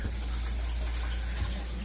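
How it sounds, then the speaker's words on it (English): Steady rush of running water from an RV shower, a constant broadband hiss with a low hum beneath and no voices. "Water coming out of the shower."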